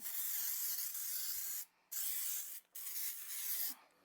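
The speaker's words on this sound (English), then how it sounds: "So I spray a little bit." Steady hissing bursts of Baker's Joy baking spray into a pan, three long sprays separated by short pauses, close and fairly loud with no talking.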